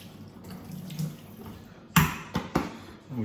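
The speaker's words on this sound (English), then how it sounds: "Wash the hands again." Tap water runs into a kitchen sink while hands that were coated in curry-powdered chicken are rinsed, a soft steady stream with a few louder splashes near the end, close and quiet with no talk.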